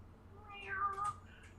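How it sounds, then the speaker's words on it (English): Cats meow faintly in the distance, one drawn-out wavering call with a softer follow-up, heard alone against quiet background hiss. "And in the distance, you start hearing meowing."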